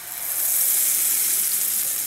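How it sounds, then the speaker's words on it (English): Cornbread batter sizzles loudly in a hot pan at a Fourth of July barbecue, a steady close hiss lasting the full stretch with no voices. "That's a nice sizzle."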